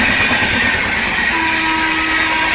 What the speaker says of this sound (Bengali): এই হচ্ছে হাওড়া পুরী শতাব্দী এক্সপ্রেস।